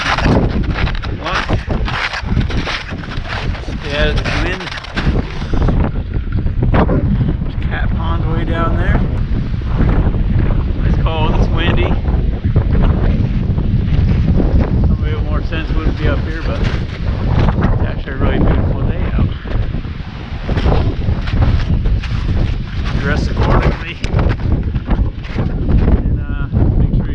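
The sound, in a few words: wind on a winter mountain hike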